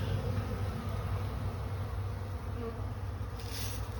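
Honeybees buzz around a trap-out box in a close, continuous drone, with individual bees passing near over a low steady hum.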